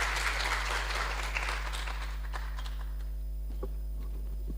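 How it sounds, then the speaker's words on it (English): An audience applauds after a presentation at a grand finale and prize-giving ceremony, a dense spread of clapping that fades out over a few seconds over a steady electrical hum. "let's give them a round of applause"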